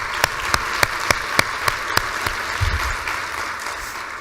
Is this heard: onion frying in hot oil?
no